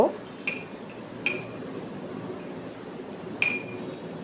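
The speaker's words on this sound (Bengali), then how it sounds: "এখন এই শুকনো উপকরণগুলিকে একটু ভালোভাবে মিক্স করে নিব।" Spoon clinking against a mug while mixing dry ingredients for an eggless chocolate mug cake, with three or four bright separate taps over a soft background, no talk.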